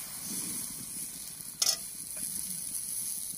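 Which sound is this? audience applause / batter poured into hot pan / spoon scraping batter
batter poured into hot pan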